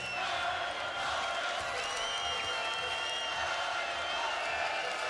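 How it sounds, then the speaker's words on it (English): A handball arena crowd at a European Championship match between Norway and Spain, a steady unbroken roar of cheering and applause, with a commentator's voice talking over it. "if the crowd could lift Norway, they'd be flying by now"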